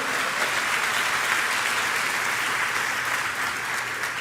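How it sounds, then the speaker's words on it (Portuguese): A church congregation gives a steady round of dense applause during a sermon, continuous clapping that fills the room at an even level with no talk over it. "Dá uma salva de palmas aí, dá uma glória a Deus"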